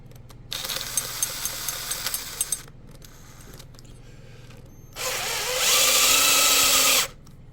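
A handheld power drill with an ordinary bit, no oil, boring into the rudder of a Pro Boat Blackjack 24 RC boat: two close, loud whirring bursts, the second higher and steadier, separated by a pause.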